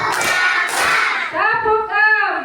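A classroom clapping pattern: a few sharp group claps at the start, then children's voices chanting in unison, fairly loud and close.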